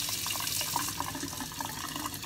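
Water runs steadily from a sink tap into the basin for makeup brush cleaning, a continuous close splashing hiss with small gurgles, alone without talk.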